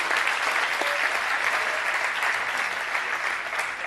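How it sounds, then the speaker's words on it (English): A steady, even wash of audience applause at a Louisville soccer night banquet carries on without a break for the whole stretch, with no voices rising above it. "Let's have a round of applause for Luis."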